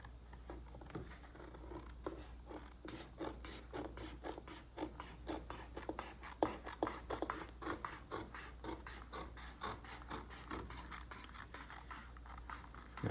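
Repeated snipping and scratching cuts while trimming material during hand bookbinding of a replica 1576 Justinian codex with fabric and leather, a steady run of quiet, close crisp strokes over faint background hum.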